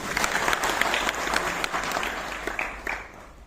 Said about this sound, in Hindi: एक बार आपकी जोरदार तालियां